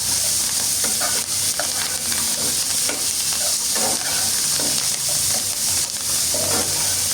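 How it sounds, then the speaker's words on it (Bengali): Chopped onions sizzling loudly in hot oil in a pan while being stirred, a continuous crackling fry with scraping and clinking of the spoon throughout, close and steady. "কাটা পেঁয়াজ দিয়ে একটু নাড়াচাড়া করে নিচ্ছি"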